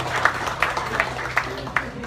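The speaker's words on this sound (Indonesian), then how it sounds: "tepuk tangan untuk Mas Ansel dan kita semua" Audience clapping for a speaker at a youth discussion gathering, sparse, evenly spaced claps about five times in two seconds, fairly near against a low background hum.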